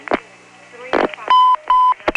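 Telephone dialing tones on a Step-ESS exchange in Smyrna, Georgia, 1977: two sustained tone bursts follow short clicks and pulses, with a voice speaking briefly between them.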